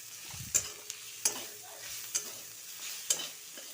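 Spices and cashews being stirred in a hot pan for a paneer masala, with a faint frying sizzle underneath and a handful of sharp spoon scrapes spaced roughly a second apart.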